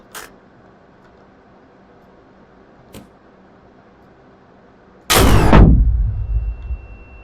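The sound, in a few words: rocket launcher firing in video game Drive Beyond Horizons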